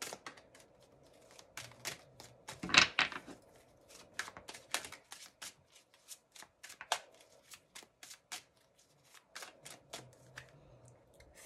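Tarot cards are shuffled in a quick run of crisp riffles and soft flicks, close and fairly quiet, with brief pauses between the bursts and no talk.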